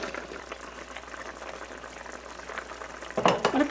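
Chicken fries in a pan, a low steady sizzle with bubbling, then louder spattering bursts near the end.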